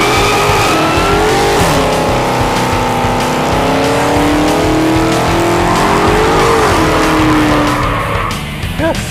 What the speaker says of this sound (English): now we're gonna send off this poor 2015 Charger with an epic set of burnouts.